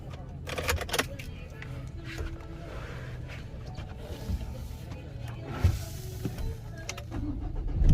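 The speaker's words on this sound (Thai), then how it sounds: "เดี๋ยวทดสอบสตาร์ทนะครับ" A 2018 Ford Ranger pickup cranking and starting after a new remote key chip is programmed, a soft starter churn followed by a low idling engine rumble, fairly faint with small clicks and a voice nearby.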